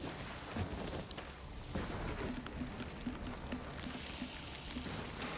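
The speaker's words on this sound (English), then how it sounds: "Damn, what kind of rain is that?" Acid rain pours steadily in an animated short film, a faint, even hiss of falling drops with scattered patters and no voices.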